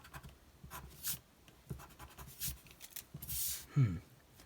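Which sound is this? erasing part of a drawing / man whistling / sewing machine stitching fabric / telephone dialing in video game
erasing part of a drawing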